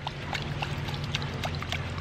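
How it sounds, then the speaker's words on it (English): Rice rinse water being poured off into a container, a quiet, steady trickle and splash lasting the whole moment with no talking. "And what we can do is pour off this water"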